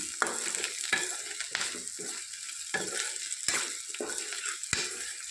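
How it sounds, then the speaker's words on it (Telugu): Drumstick pieces stirred into curry in a pan, a sizzling bed broken by regular sharp scrapes and clinks of the spoon against the pan, close and alone. "వేసుకొని మరొకసారి కలుపుకుందాం."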